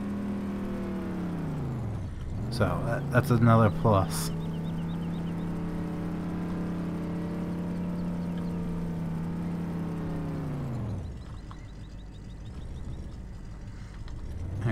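A car engine in Farming Simulator 15 hums at a steady idle, rising briefly in a whirring rev before settling and then dropping in pitch, with a short spoken remark partway through.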